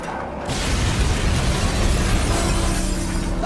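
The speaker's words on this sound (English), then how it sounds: "Warning, explosion imminent." Loud explosion in the video game Batman: Arkham Knight, a sudden booming blast with shattering debris and a rumbling tail that fills the whole moment.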